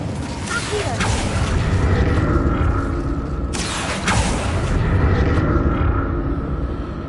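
A spell cast in a Harry Potter video game, heard as two sharp whooshing bursts with booming, mechanical game effects over a steady ambient bed.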